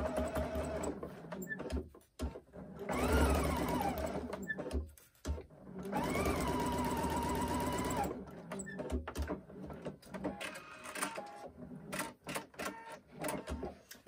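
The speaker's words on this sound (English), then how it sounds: "when I take this to my sewing machine and sew it" A sewing machine stitches bias binding onto a basket in two sustained bursts of whirring needle motion, close and clear, followed by shorter intermittent runs and handling noises.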